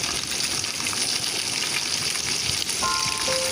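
Egg cubes for chili egg paneer sizzle and crackle steadily in hot oil in a wok, a dense continuous frying hiss throughout with faint utensil clinks near the end.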